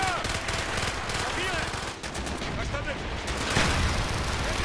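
Dense automatic gunfire and mortar blasts fill a Call of Duty: Black Ops battle, loud and continuous with layered explosions, while soldiers' shouted voices sit under the firefight.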